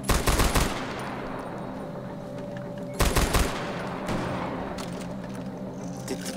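Bursts of automatic StG assault rifle fire in Far Cry 4 aimed at snipers, two sharp rapid volleys a few seconds apart, followed by a smaller shot and a fading ambient tail.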